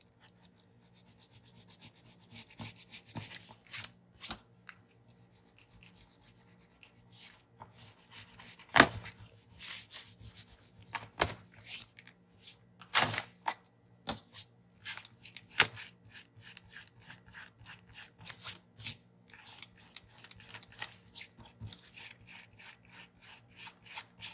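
A craft scraper rubs over the curved cover of a limited edition Alexander Dumas Paperblanks reading journal: quiet, close scratchy strokes in irregular bursts with pauses between, no talking.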